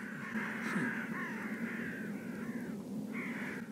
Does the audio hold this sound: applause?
no